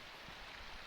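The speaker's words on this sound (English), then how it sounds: "I think it's raining. Is it raining? Yeah, it's raining." Rain falling in the Minecraft video game, a steady soft hiss of in-game rainfall, faint and continuous with no voices over it.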